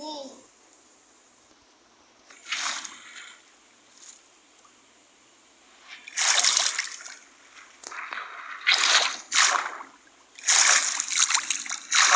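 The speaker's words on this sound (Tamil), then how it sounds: "கரெக்டாக தண்ணியில் தான் குதிக்கணும்" People jump into water, giving several loud splashes in bursts with quieter water sounds between them, while children's voices talk nearby.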